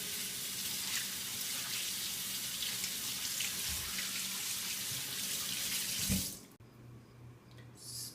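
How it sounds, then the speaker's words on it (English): A kitchen tap runs as hands are washed under it, a steady bright splashing stream that stops abruptly near the end, followed by a few faint drips and clinks. "The first step will be washing hands."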